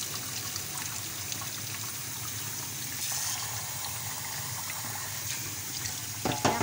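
Tap water runs steadily while uncooked rice is rinsed, a continuous splashing trickle with a brief louder clatter of water and grains near the end; no talking.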